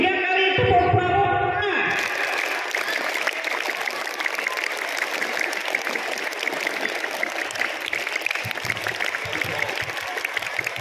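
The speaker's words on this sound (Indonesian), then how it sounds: "Oke, 3 kali tepuk pramuka." Children at an elementary school closing assembly do the scout clap, starting with a brief burst of voices and then a long, dense, steady run of clapping that continues to the end at moderate loudness.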